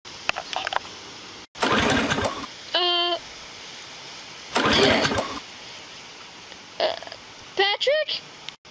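An engine repeatedly cranks and sputters without catching, in several short bursts separated by pauses, with voices speaking between attempts.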